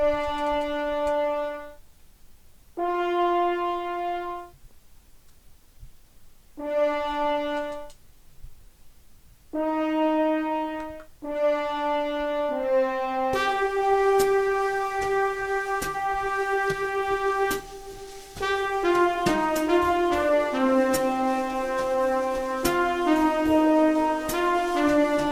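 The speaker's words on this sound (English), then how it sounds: "Also I added a sustain horn from Sonatina Orchestra," Sustained horn sample from the Sonatina Orchestra library in a jazz production, first as separate held notes with pauses, then as a continuous layered swell of overlapping horn tones, heard clean and close without speech.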